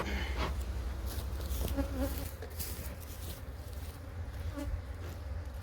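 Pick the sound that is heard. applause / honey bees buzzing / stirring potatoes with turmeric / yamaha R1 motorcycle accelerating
honey bees buzzing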